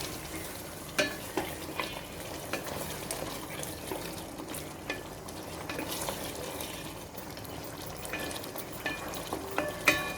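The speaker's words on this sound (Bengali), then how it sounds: "সেই জিব্বাটা আমি দিয়ে দিব। এটা দিয়ে খুব ভালো করে কষাতে হবে" Pieces of fried beef tongue sauté in a pan with a soft, continuous sizzle and occasional scraping taps of a spoon stirring, fairly quiet with no speech.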